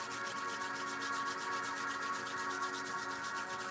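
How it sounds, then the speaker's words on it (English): Palms rub together in quick circles, a continuous soft, dry swishing friction that stays even and fairly quiet throughout, with no voice present. "bring your palms together, rub them in a circular motion"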